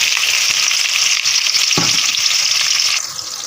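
Onions frying in half a cup of hot oil, a loud, dense sizzle at close range with a brief clatter of stirring partway through, easing slightly near the end.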